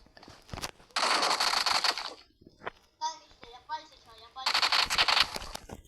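Two long bursts of rapid automatic gunfire from a video game, loud and dense, separated by a stretch where a young voice speaks Turkish.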